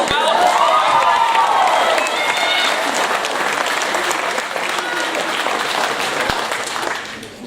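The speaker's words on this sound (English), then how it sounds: "So you guys give yourselves a round of applause as well." A loud round of applause fills a performance hall at a Pacific Islander cultural show, with whoops and cheers riding over the clapping early on before it thins slightly near the end.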